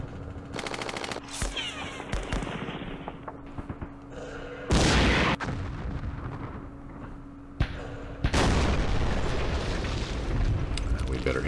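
Mortar fire in the war game Campaign Series Middle East: sharp loud booms and bursts of gunfire, with a big blast near the middle and another later, mixed with game effects and someone talking.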